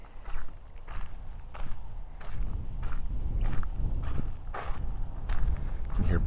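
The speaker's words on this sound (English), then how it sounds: "what I would refer to as hoppers or grasshoppers. Sound a little bit like crickets." Grasshoppers chirp in windy prairie grass at Little Bighorn Battlefield in Montana, a steady cricket-like high trill running throughout, with soft rhythmic footsteps crunching along beneath it.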